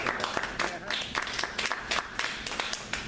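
Audience at a stakeholders meeting claps in a brief scattered round, uneven hand claps over about three seconds, fairly faint in a room with some voices mixed in.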